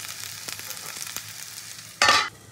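Young jackfruit fries in a pan, a continuous close sizzle with occasional stirring knocks, then a sudden brief louder burst of hissing near the end, with no voices.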